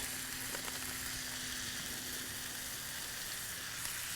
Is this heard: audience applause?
no